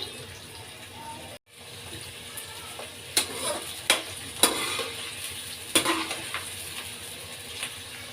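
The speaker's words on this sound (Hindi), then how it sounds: "हल्का ब्राउन कर लेंगे।" Onions frying over a medium flame toward light brown for a bitter gourd curry, a continuous sizzle broken by sharp stirring clanks of a utensil against the pan and one short dropout.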